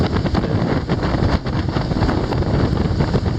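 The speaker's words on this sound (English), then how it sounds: "A little bit of wind." Wind gusts across an open marina on the water, a loud, continuous rushing buffet against the microphone with uneven surges and brief dips, heard alone with no voices.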